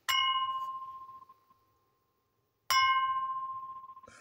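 A bell rings twice, each a bright, loud strike that rings out and slowly decays, separated by a short silence.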